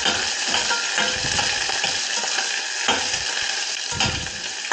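Whole small shallots stirred and frying in a pan, a steady close sizzle broken by frequent scraping stir strokes throughout, with no voices.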